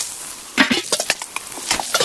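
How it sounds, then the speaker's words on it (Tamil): Onions frying in a pot with cinnamon, cloves, cardamom and bay leaf for a village-style chicken dum biryani, with a soft sizzle and a few close scraping stirs and clinks of a spoon against the pan. "இப்போ வெங்காயம் சேர்த்துக்கலாம்."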